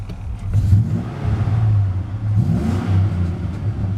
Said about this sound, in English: Upgraded exhaust, so it gives a nice deep growl.